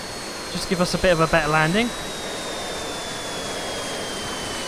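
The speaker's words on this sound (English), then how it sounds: "we're actually going to get in the Douglas DC-4 and just show you what that sounds like" Douglas DC-4 engine noise in the RealFlight 9.5 RC flight simulator game, a steady droning hum with a thin whine that slowly drops in pitch, with someone talking briefly over it near the start.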